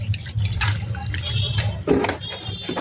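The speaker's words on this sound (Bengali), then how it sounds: "তো বন্ধুরা দেখুন আমি মাছগুলো কিভাবে ধুচ্ছি।" Small fish being rinsed by hand with water in an outdoor rooftop setting, with soft splashing and trickling liquid sounds running throughout, fairly close, plus a brief louder splash near the end.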